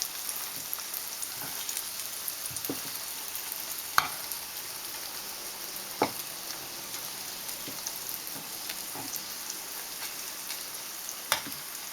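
Murtabak stuffed with egg sizzles in a hot pan after being flipped, a steady close crackle with occasional sharper pops.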